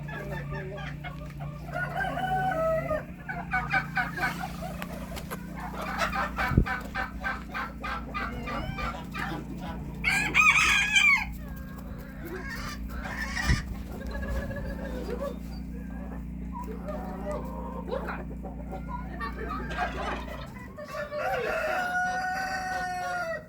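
Chickens cluck and chatter nearby, with a rooster crowing partway through and scattered bursts of squawking over a low background hum.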